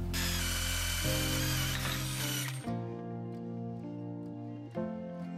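Power drill with a 4.0 mm bit boring holes during door frame installation, a steady high whine with strong tonal hum that drops to a lower-pitched running tone partway through, with faint ticks.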